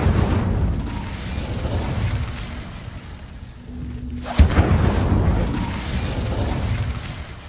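The Incendio fire spell in Hogwarts Legacy lands with a rumbling, roaring burst, then a sharp blast and a crackle of flames that trail off under continuous low game noise.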